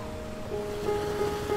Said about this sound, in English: among the deafening roar of the great wave.